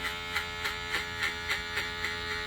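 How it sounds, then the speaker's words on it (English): An Andis cordless hair clipper buzzes steadily at close range while notching into hair, its hum pulsing in quick regular beats as the blades bite. "Let's say if you wanted to notch, you come in with the clipper"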